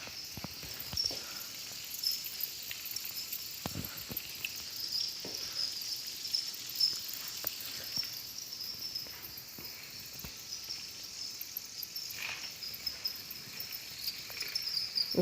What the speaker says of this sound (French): Donc là, c'est la salle au grillon.